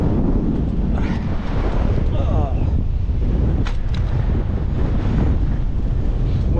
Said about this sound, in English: Wind's getting up again